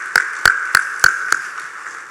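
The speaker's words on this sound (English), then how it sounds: "Just give a round of applause for all the winners." At an electric cooperative's annual members meeting, a handful of people clap for scholarship winners: five or six crisp, evenly spaced claps in a sparse round that fades quickly.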